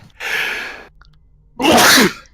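Two loud sneezes close to the microphone, the first a drawn-out breathy burst and the second sharper and stronger after a short pause of near silence.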